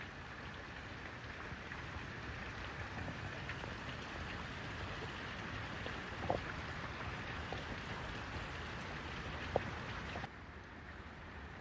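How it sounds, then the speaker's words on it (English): A heavy rainstorm pours down in Boise, Idaho, a dense, constant hiss of rain with a couple of sharp drip knocks. It drops slightly in level near the end. "look how hard it is raining, guys"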